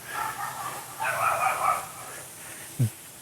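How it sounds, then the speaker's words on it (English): A dog barks and yips outdoors at a home in The Villages, Florida, with a few mid-distance barks followed by a short sharp yelp near the end. "And the dog starts barking."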